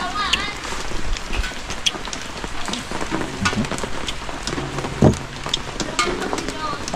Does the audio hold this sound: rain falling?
yes